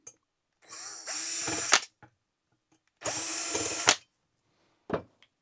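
A power drill removes the three screws from the top of a ceiling fan's DC motor, whirring in two close, loud bursts of about a second each, each ending in a brief rising whine, followed by a short click.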